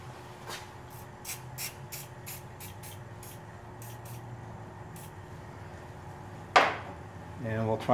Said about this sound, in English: let's spray a little WD-40 on there